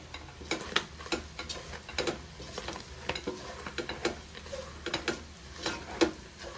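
Boti (tripe) frying in a pan for a Telangana-style fry, with a steady sizzle beneath repeated sharp scrapes and clicks of a spoon stirring against the metal, close and fairly quiet.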